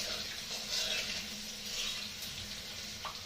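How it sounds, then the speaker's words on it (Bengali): Four dried red chillies spluttering in hot mustard oil as tempering: a steady, close hiss and crackle that holds at an even level throughout, with no voices. "4টে শুকনো লঙ্কা আমি এটাকে ফাটিয়ে"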